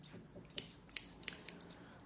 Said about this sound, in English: he will allow me to use the scissors